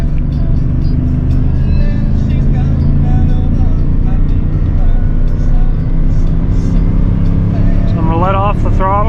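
A 24-year-old 8.1 gas V8 truck towing 18,000 pounds, its engine droning loudly and steadily under acceleration with a brief tonal whine near the end, recorded from inside the cab.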